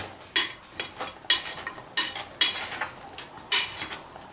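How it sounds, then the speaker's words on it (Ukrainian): Still-hot cookies are stirred and tossed in powdered sugar, making about eight close, rhythmic scraping and clattering strokes against the container, with no voices. "і ще гарячим печиво я кидаю цю цукрову пудру і перемішую"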